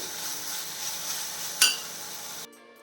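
Tomatoes and other vegetables sauté in a pan with an even, close sizzle, a single sharp clink of a spatula against the pan, then the sound drops off abruptly near the end.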